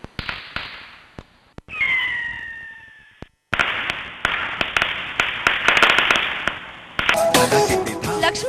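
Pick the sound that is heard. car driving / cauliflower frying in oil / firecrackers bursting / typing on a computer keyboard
firecrackers bursting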